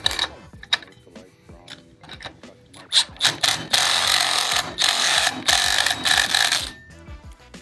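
Screws being tightened during assembly of a Haworth Fern office chair, with close clicking and whirring bursts that build into a sustained run of driving noise before easing off.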